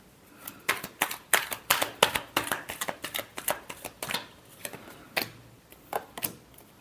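A deck of tarot cards shuffled close up in a run of quick riffles and crisp snaps, busy at first and then thinning to a few scattered flicks, with no voices.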